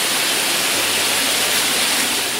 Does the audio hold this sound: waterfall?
yes